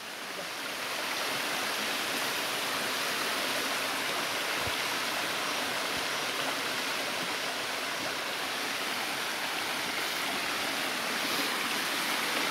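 A natural waterfall and flowing stream at Kakare in Dhading, Nepal, roars as a steady, dense rush of water that stays loud and constant throughout, with no voices over it.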